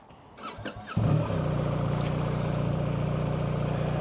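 A 2025 BMW R1300R motorcycle starting up: a short starter crank, then the engine catches and settles into a steady, close, even drone that runs continuously to the end.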